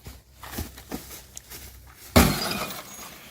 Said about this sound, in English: we're going to be destroying this RCA CRT TV.